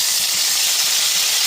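Chopped tomato hits a hot pan of arhar dal on a low gas flame and sets off a loud, steady sizzle with a bright, hissing wash of steam that holds for the whole moment.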